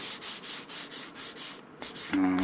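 Sandpaper rubs back and forth over a piece of wood braced on a table, a rhythmic scratchy rasp of about eight close strokes, followed by a brief pause and a sharper final scrape.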